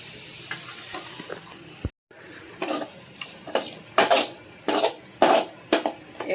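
Prawn masala stirred and sautéed in a pan for prawn thokku, with scraping spoon strokes that grow louder and more regular after a short pause, close and alone without voices.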